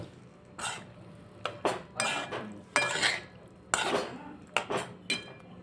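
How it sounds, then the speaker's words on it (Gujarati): Cooked pasta being mixed in a pan with a utensil: a series of close scraping and clinking strokes against the metal, arriving in uneven bursts over a quiet background. "હવે આપણે બધું મિક્સ કરી દઈશું."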